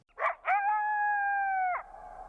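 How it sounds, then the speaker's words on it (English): A Yellowstone coyote gives a yip howl: two short sharp yips followed by one long, steady, slightly falling howl, fairly close and clear with a quiet tail afterward. "The yip howl declares to other coyotes that this territory is occupied."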